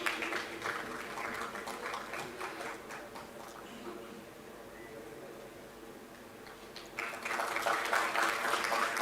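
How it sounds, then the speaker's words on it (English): Convocation ceremony audience applauding graduates, fairly faint, distant clapping that swells, fades in the middle and rises again at the end, under a reverberant hall ambience. "Give them a huge round of applause."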